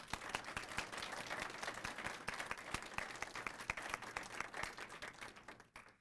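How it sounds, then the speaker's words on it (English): A student audience applauds warmly at a university speaker series event, dense steady clapping throughout with sharp individual claps standing out, fading slightly at the end. "please help me thank them with a warm round of applause"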